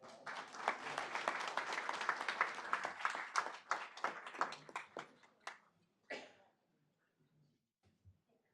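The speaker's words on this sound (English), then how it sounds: "Let's go to another round of applause." A room at a city council meeting breaks into applause, dense clapping for about five seconds before it thins to a few scattered claps and fades out.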